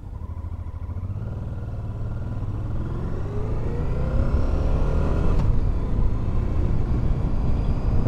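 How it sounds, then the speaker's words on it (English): A 2010 Honda Deauville NT700 700cc V-twin motorcycle being ridden, its engine note rumbling steadily and rising in pitch as it accelerates, with wind noise building, loud and close. "for a 700cc V-twin it has quite some torque."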